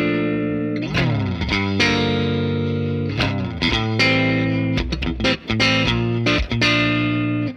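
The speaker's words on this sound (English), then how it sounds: "because it's a guitar, I could add chords" Strummed and picked chords on a Grez Mendocino baritone guitar, played through effects with distortion and chorus, ringing out loud and close with a string of attacks and sustained low, full harmonics, no voices.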